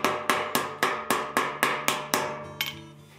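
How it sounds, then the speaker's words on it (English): A light ball peen hammer taps out bumps on a forged bronze horse sculpture, about ten sharp, evenly spaced metallic strikes with ringing decay, close and alone. "now I'm down to a fairly light ball peen hammer, and I'm just subtly moving areas out"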